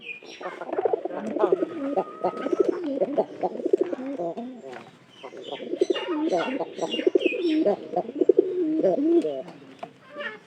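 Pigeons coo close by in repeated throaty, rolling phrases, with brief pauses between bursts and a few light chirps.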